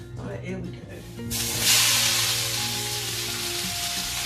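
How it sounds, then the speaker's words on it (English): Vegetables including baby sweet corn sizzle and fry in a hot pan, the hiss swelling loudly after they are tipped in and then holding steady, following brief talk at the start. "See that sizzle?"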